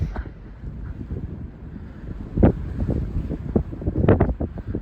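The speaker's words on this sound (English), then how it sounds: "that wind is insane" Strong gusting wind on the Arapaho Pass mountain trail buffets the microphone in a steady low roar, rising into sharper blasts and thumps throughout.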